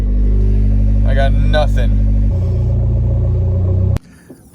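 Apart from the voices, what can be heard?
shop car engine revving erratically, suspected MAF or MAP sensor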